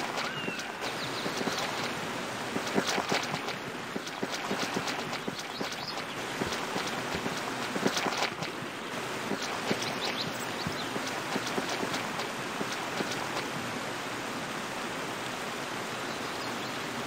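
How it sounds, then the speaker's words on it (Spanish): Rain falls in Baldur's Gate Enhanced Edition as a steady, broadband hiss with scattered patter, continuous and moderately loud for the whole stretch with no voices. "Se pone a llover."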